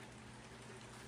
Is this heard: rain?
yes